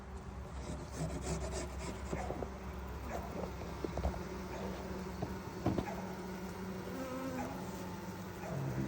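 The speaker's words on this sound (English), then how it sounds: "so scrape the propolis off of the box" Propolis is scraped off a wooden beehive box in close, steady rasping strokes with a few sharper scrapes, over a constant buzzing hum from bees.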